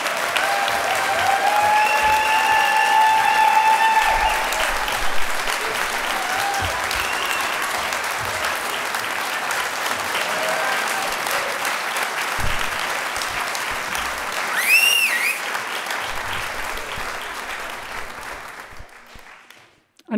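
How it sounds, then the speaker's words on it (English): Audience applause for a musician, sustained dense clapping from a live crowd that holds steady for most of the stretch, with a few whistles and cheers rising midway, then tapers off. "a big round of applause"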